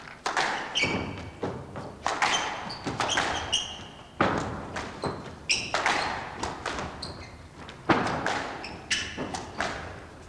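Squash ball struck hard in rapid rallies during the 1991 World Open squash final, Jahangir Khan versus Rodney Martin, with sharp repeated thuds and court echoes in a steady rhythm and faint crowd or commentary underneath.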